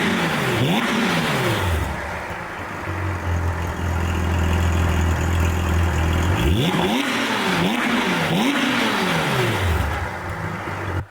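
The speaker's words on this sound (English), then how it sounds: "Extremely loud exhaust, the Akrapovic exhaust. You are going to listen to it probably now." A loud sports car with an Akrapovic exhaust revs repeatedly, exhaust roaring up and down in sharp bursts, with a steady idle rumble between the revs.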